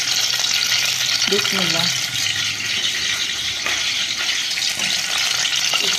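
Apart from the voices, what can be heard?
onions frying in hot ghee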